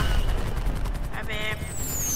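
Fireworks exploding in a video game, a rapid crackling burst of pops over loud, dense background noise, with a whistling tone near the end and voices faintly present.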